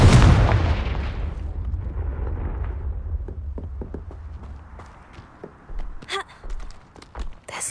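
A Confringo blasting curse from Hogwarts Legacy bursts in a loud, deep explosion that decays over several seconds, followed by scattered footsteps and small clicks.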